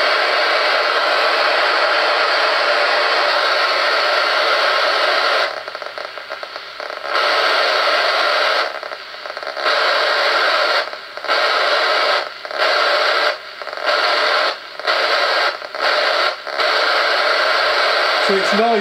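Trio 9R-59DS radio receiver hissing with loud steady static, broken by repeated brief dips and dropouts in the second half, ending with a short whistling tone.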